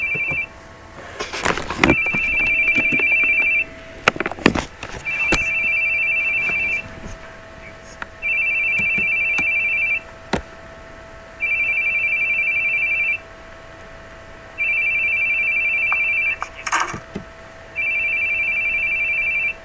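In The Boogie Man video game, a phone trills in a repeated pattern of long electronic ringing bursts with short pauses between them. It opens under some clattering sounds and continues steadily for several cycles, with no voices.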